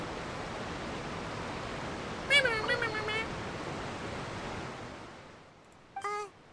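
Over steady hiss, a person makes wavering meow-like sounds imitating a cat, followed a few seconds later by another short meow.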